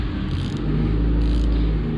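Race car engine being spun over after a valve lash adjustment, a steady loud mechanical whirring and rumble held close throughout, with no talking.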